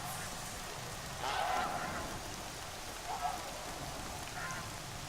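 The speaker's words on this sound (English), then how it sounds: "Oh, go away, geese." In the video game Horizon Zero Dawn, geese honk a few times at moderate distance, short nasal calls in separate bursts over a steady hiss of falling rain.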